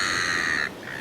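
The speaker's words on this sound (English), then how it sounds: "Lovely clean air, waves, shell and lots of birds screeching." Harsh seabird screeching at a beach, loud and close, a sustained shrill call that cuts off partway and resumes more faintly, with no voices.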